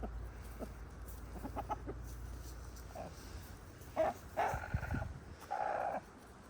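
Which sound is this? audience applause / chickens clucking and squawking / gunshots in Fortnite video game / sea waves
chickens clucking and squawking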